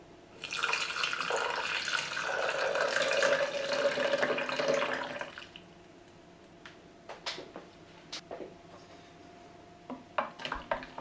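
Lukewarm water pours from close by into a clear container holding yeast and two teaspoons of sugar, a steady splashing flow for about five seconds that stops abruptly, followed by faint clinks and small handling taps.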